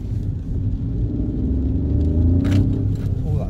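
A Peugeot 208 with a 1.2 PureTech turbo petrol engine pulls hard under acceleration, a loud low droning rumble that climbs steadily in pitch, heard from inside the car with a brief rattle near the end.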